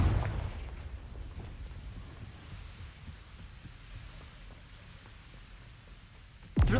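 A Confringo fire spell blasts in Hogwarts Legacy: a deep rumbling boom fades slowly across the scene, then a sharp, loud burst erupts right at the end.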